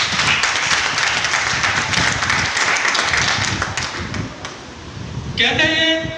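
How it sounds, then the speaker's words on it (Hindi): Loud, dense applause from an audience greeting Pushpendra at a motivational seminar, sustained for several seconds before thinning out, with a brief tonal sound at the end. "एक बार जबरदस्त तालियां"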